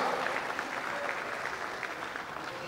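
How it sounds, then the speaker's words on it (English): A comedy show crowd claps for veteran Nigerian Yoruba movie actor Oga Bello, producing a thick, sustained burst of applause that eases slightly toward the end, with no speech. "Please, a round of applause"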